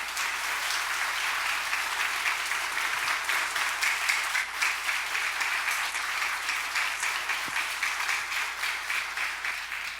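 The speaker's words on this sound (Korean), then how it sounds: "박수를 이렇게 쳐주시는 제가 어쩔 줄 모르겠습니다." A church congregation at a Sunday service applauds, a dense, sustained wash of clapping that holds steady for the whole stretch.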